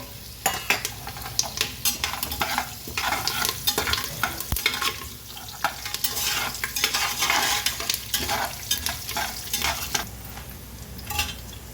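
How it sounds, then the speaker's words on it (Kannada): Dried red chillies and curry leaves crackle and sizzle in hot tempering oil, a loud, busy spitting hiss with frequent bursts, mixed with clinks and scrapes of a metal spoon against the pan. "ಒಗ್ಗರಣೆ ಆದ ನಂತರ ಇದು ಒಣಮೆಣ್ಸಿನ್ಕಾಯಿ, ಕರಿಬೇವು ಒಟ್ಟಿಗೆ ಹಾಕ್ಬಿಡ್ಬೇಕು"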